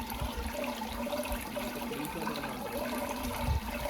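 Water flowing steadily through a farm field channel, a continuous rushing wash that stays close and even from start to finish with no voices over it.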